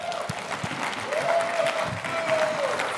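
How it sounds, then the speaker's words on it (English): Audience applause at a blue-collar motivational seminar, a steady wash of clapping with scattered whoops, filling the room at moderate loudness for a few seconds. "Give yourself a round of applause."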